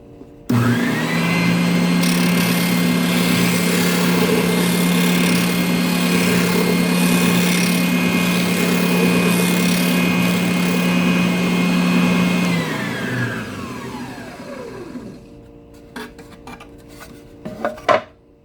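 A belt/spindle sander works on a cigar box guitar: the motor starts with a thump, hums and whines loudly and steadily for about twelve seconds, then winds down to silence, followed by a few light clatters.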